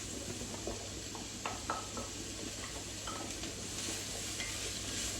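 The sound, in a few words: cabbage and onions cooking in a pan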